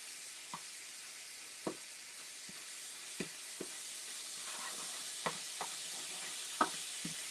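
Lamb pan juices sizzle and cook down in a hot pan with a steady, close hiss, broken by a few light knocks of a utensil against the pan.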